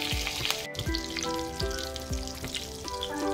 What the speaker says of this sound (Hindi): और फिर डालेंगे इसमें थोड़ी सी राई, और डालेंगे ये थोड़ा सा कड़ी पत्ता।